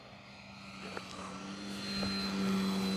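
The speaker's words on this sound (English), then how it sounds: "You don't normally see me doing low passes like that, guys, because I don't do it." A Durafly Carbon Arcus 1000mm RC glider with an electric motor makes a low pass. Its motor whine rises steadily and grows louder as the plane nears, with a sustained tonal hum.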